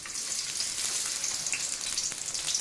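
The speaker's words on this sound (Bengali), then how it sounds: "এবার পেঁয়াজগুলোকে নেড়ে চেড়ে ভেজে হালকা ব্রাউন কালার করে নিবে।" Chopped onions fry steadily in about ten tablespoons of cooking oil for a chicken skin masala, a dense continuous sizzle with faint stirring crackles, close and even throughout.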